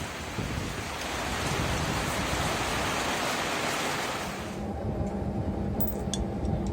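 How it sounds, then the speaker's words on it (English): Steady rain pours in a dense, loud hiss that eases a little near the end, leaving a quieter patter with a few sharp ticks. "Rain is picking up, but nowhere near a typhoon."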